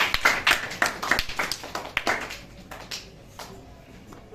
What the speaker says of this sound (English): You clap it for her.